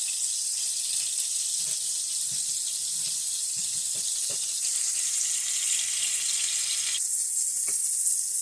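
A hamburger patty fries in a pan with a constant, close sizzle and crackle, joined by a few faint clinks of a utensil. No one speaks.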